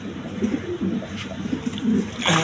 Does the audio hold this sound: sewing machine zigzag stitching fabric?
no